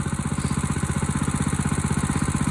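Small engine warming up for snow duty, running at roughly half throttle near 2,600 RPM: a loud, close, steady pulsing drone with an even rapid chug throughout.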